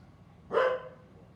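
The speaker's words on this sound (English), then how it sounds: "So they're crazy dogs." A dog protecting a house gives a single short, sharp bark at moderate distance against a quiet background.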